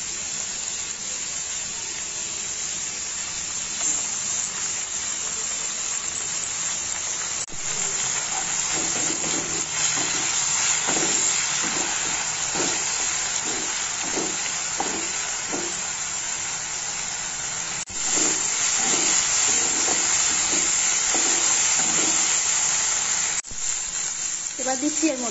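Onion, garlic and ginger paste fries in a hot pan, giving a steady hiss and sizzle through the whole stretch, with soft stirring scrapes and occasional clicks, a voice talking quietly beneath.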